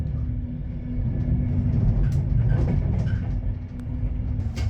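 Avanti train pulling out of Birmingham New Street station, heard from onboard as a steady low rumble with faint squeaks and clicks, no talking.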